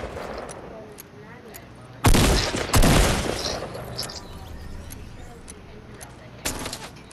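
Video game gunfire bursts out in heavy, loud volleys of rapid shots and booming impacts, two dense clusters early on and another near the end, over a continuous hum of background game noise.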